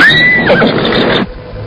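A horse whinnies loudly and close by, a high rising-and-falling neigh lasting about a second before cutting off into quiet background.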